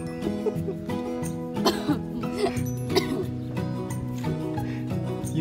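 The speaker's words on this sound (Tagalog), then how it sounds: "Yung parang nabubulunan na, ubo na ng ubo." Repeated harsh coughing and choking sounds in a busy indoor setting, with bursts recurring every second or so over a steady background of other voices and noise.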